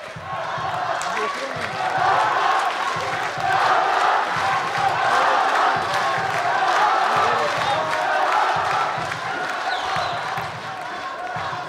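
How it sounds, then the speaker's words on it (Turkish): Large crowd in an indoor hall chanting for Adnan, a loud, continuous rhythmic roar of many voices with repeated pulsing chant phrases and scattered shouts throughout. "Gördüğünüz gibi salonda Adnan tezahüratı daha yüksek geliyor"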